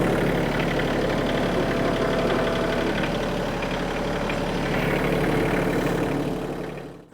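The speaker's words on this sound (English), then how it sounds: "So I'm gonna pull the tractor up just a little bit" A Kioti CS2520S compact tractor engine idles steadily and close by, a continuous mid-low drone that fades away in the last moment.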